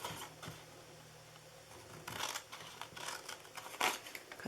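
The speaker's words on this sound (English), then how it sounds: "Cut it to the second score mark." Scissors snip through a paper gift box, cutting along to a score mark in a few short crisp bursts close up, with no talking.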